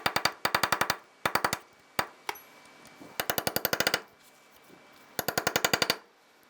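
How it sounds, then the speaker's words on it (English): Bursts of sharp metallic hammer strikes on a small punch open the staked axle nut on a 2003-2011 Honda Element wheel hub, loud close rapid volleys of several blows each separated by short pauses. "we just have a small punch here. We'll just see if we can open that up enough to spin off the nut"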